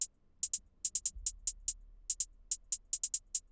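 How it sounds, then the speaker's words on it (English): A simple programmed hi-hat pattern in an FL Studio beat, crisp bright ticks in a bouncy uneven rhythm with a faint low thump underneath, no voices. "Then guys, we have a super simple hi-hat pattern."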